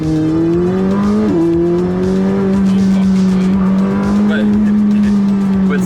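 A McLaren 600LT sports car engine drones steadily at a loud, sustained pitch, with a slight dip and rising revs and exhaust rumble throughout.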